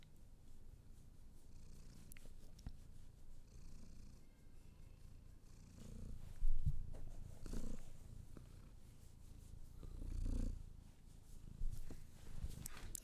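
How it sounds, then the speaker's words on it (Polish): A house cat purrs right up against a microphone, a steady low rumbling drone with a few louder swells and small knocks as it shifts about, with no voices over it. "Słyszycie chyba, nie? Mruczenie."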